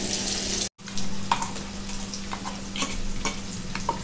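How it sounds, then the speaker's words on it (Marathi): Onion frying in a pan for a Maharashtrian pithla bhakri, a close steady sizzle with a brief dropout near the start and occasional light stirring clicks, no voices. "कांदा जरा फ्राय करून घेते."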